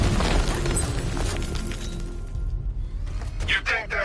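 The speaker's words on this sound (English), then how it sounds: "I can use the power winch to trigger a controlled explosion" A drone's exposed bomb payload detonates in a controlled blast in Batman: Arkham Knight, a shattering burst and boom that rumbles on with debris and mechanical clatter, a voice talking over it.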